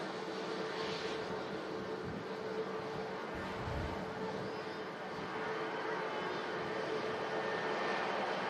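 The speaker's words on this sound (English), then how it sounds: "EasyJet on the roll." An EasyJet airliner starts its takeoff roll at Manchester Airport in strong gusty wind, its engines a distant, steady broadband roar with a faint droning tone, accompanied by brief wind thumps on the microphone.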